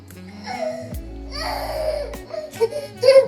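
A baby boy fusses and cries nearby after chewing on a vehicle tyre, with short whimpering bursts building toward the end and some low background noise.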